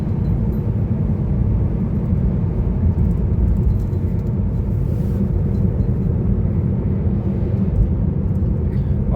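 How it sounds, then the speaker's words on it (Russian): Steady low tire roar from studded winter tires on a Honda Fit with a continuously variable transmission, heard from inside the car as a constant droning rumble. "Только от колес шум есть."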